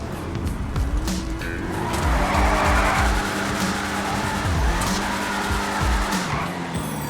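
A race car in a GTA 5 roleplay race hauler scene spins its tires, engine roaring loud and close as rubber squeals and skids over several seconds with rising and falling revs.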